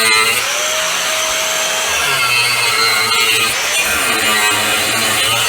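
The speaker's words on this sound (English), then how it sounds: "So that's why I use the grinder with cutoff wheel." An angle grinder with a cutoff wheel cuts metal while a Sonoma truck is built up for an axle swap, a loud, continuous high whine and grinding roar running the whole time at close range with no talking.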